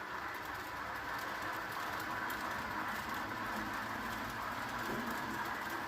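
Steady, dense clattering and whirring of a model train switching cars, moving slowly, continuous and fairly close, with no voices.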